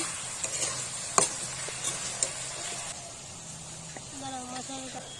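Amla pickle being stirred in a pan with sugarcane jaggery and ground spice paste, a soft sizzle under repeated scraping and clinking of a spoon, close, with a brief tonal squeak near the end.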